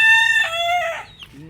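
A chicken crows loudly and close by in a long drawn-out call that trails off into a short cluck, with no talking over it.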